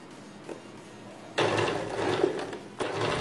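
Sewing machine stitching kurti fabric, running in steady bursts: a soft start, then a loud continuous whirring stretch, a brief pause and another run, close and alone.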